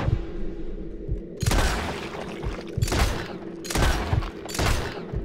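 Gunfire in Red Dead Redemption 2: four loud, broadband shots spaced about a second apart, each with a short decaying tail, over a low rumbling game ambience.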